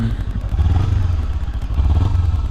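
A Kawasaki Ninja 300 sport motorcycle with stock exhaust revs in a low, throaty pulse, fairly muted, rising and easing over a couple of seconds with no talking.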